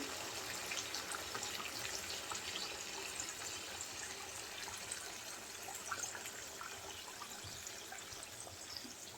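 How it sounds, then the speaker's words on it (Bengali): Boiling hot water pours into a pan of spicy duck curry cooked down with fried spices, giving a steady, fairly quiet splashing rush that runs unbroken for several seconds. "আমি এখানে ফুটন্ত গরম পানি নিয়েছি"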